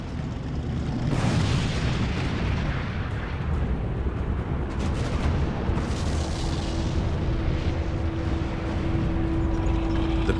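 Russian artillery fire against advancing German tanks, including Tigers, in a wartime battle, heard as a dense continuous roar of rumbling blasts and booms with a faint engine whine, loud throughout and without talk.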